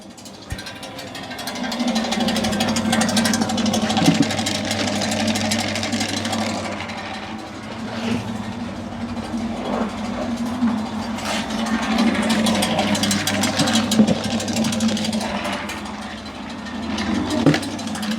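A household GKP-4-220 feed pelletizer on 220 V mains hums and drones steadily while granulating, a mid-pitched motor sound that swells and eases with occasional knocks, close by and with no talk.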